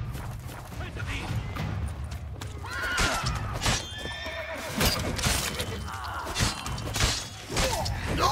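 Horses in The Witcher 3 whinny and neigh several times amid clip-clopping hooves and thuds, with a voice talking over parts of it.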